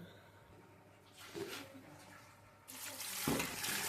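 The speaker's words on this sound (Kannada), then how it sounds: "ಈಗ ಇದಕ್ಕೆ ನೀರು ಹಾಕೋಣ" Water pours into a cooking pot of vegetables and lentils for bisi bele bath, first a faint trickle and then a louder, steady rushing splash near the end, heard alone and fairly quiet.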